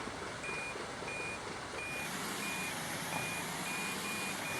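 A truck in a driving video game sounds evenly spaced reversing beeps over a steady engine drone, clear and regular throughout with no talk.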